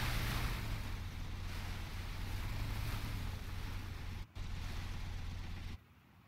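Water waves from swimming in PUBG, a steady wash of splashing and surf-like noise with a low hum underneath, running throughout before a brief dropout and a quieter tail at the end.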